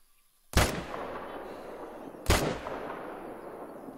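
Two loud rifle shots fired while hunting in the video game The Hunter: Call of the Wild, about two seconds apart, each a sharp crack followed by a long rolling echo that fades slowly.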